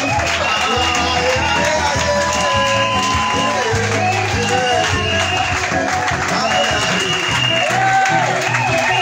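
A church congregation claps and cheers together in a dense, steady wash of applause that runs the whole time, with sustained musical tones mixed in.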